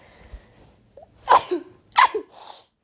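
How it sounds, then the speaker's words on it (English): Two sharp sneezes close by, each with a quick intake of breath before it, followed by a short exhale in an otherwise quiet space. "with that sneeze being sneezed"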